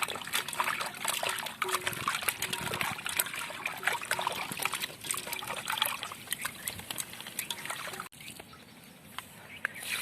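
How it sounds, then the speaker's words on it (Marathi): Steady trickling, splashing tap water runs throughout while raw chicken is washed, close and fairly loud, with brief drops in flow near the end. "तर आता हे चांगलं स्वच्छ धुवून घेऊ पाण्याने"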